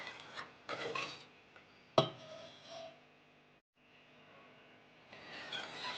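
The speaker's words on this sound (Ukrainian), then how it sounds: "І потрібно добре перемішати, щоб не було грудочок." A spoon scrapes and rubs around a pot as a hot milk mixture is stirred for a chocolate cake glaze. The strokes are uneven and fairly quiet, with one sharp knock against the side and a short pause before the scraping resumes.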